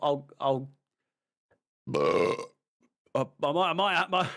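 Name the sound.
burp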